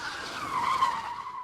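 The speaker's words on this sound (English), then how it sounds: "a yellow sports car came blazing into the yard, the brakes stirring up a billowing cloud of dust" A yellow sports car brakes hard and skids across a dusty yard, a short loud tire squeal swelling and fading over about a second and a half, heard alone.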